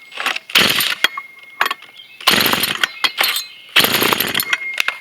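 A Poulan Wild Thing two-stroke engine in a makeshift test rig fires in loud, ragged bursts, revving in three surges separated by brief drops and rattling clatter, up close.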